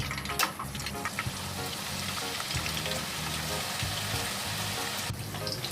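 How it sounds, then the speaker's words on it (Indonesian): Beef meatballs frying in a pan with a busy, continuous sizzle and crackle, close and fairly quiet, with occasional stirring clatter throughout. "kita ganti goreng bola-bolanya."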